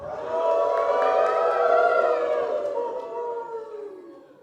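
Several voices howl together in a long, wavering chorus, rising and sliding in pitch, loud and sustained before slowly fading.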